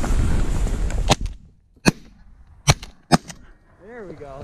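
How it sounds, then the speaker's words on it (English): Shotgun blasts during a goose hunt in a corn field with a small decoy rig: three sharp broadband shots spaced about a second apart, with a goose honking faintly afterward over low outdoor rumble. "There's my third shot."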